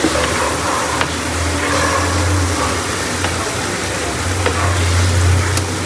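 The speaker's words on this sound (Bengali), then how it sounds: "এখানে কিন্তু পেঁয়াজটা অলমোস্ট একটু ভাজা হয়ে গেছে" Chopped onions with ginger paste frying in a home kitchen pan, a steady loud sizzle with occasional clicks of stirring, alone without talk.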